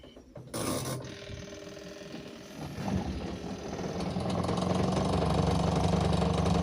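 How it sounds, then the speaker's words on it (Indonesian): Spin dryer of a Sharp washing machine, freshly repaired, starting up with a clunk and then whirring into a rising, steady mechanical hum with a rattling, ratcheting texture that grows louder as it spins. "terus kita tes kira-kira mesin pengeringnya langsung normal muter apa enggak"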